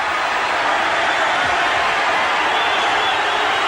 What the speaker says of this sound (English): Bit of jeering too from the crowd.